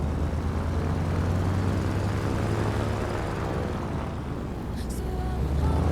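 A de Havilland propeller plane in Microsoft Flight Simulator 2024 holds a steady, droning engine hum with a low tonal rumble through the takeoff roll, fairly loud and continuous, with a brief higher blip near the end.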